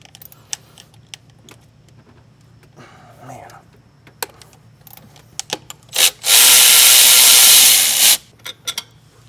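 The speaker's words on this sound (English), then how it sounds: "We are going to take a 14mm and we're going to get our pitch stop mount loose." A 14mm wrench works loose the pitch stop mount bolt on a Subaru STI, giving scattered close metallic clicks and ticks, then a loud two-second hiss-like rush before more light clicks.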